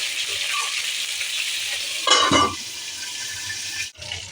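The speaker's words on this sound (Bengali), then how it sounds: "পটলগুলো আমরা লো টু মিডিয়াম আছে একবার নাড়াচাড়া করে দিয়েছি এবার আমি দ্বিতীয়বার নাড়াচাড়া করে দিচ্ছি" Pointed gourd (potol) frying over low to medium heat in a pan, a continuous close sizzle with a louder scrape and clatter of stirring midway and a brief dip near the end.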